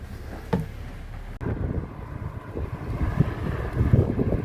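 Gusty headwind buffets the microphone in low, uneven rumbles while fishing outdoors near Vytkovychi, with a couple of sharp knocks; no one speaks.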